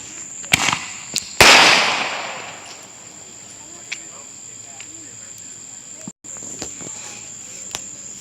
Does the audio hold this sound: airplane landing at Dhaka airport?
no